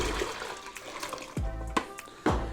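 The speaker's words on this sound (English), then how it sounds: "So we're going to pour this into our fermenting bucket." Sanitizer water poured from a container into a fermenting bucket, heard as close splashing and gurgling with a few stronger sloshing bursts as the liquid lands.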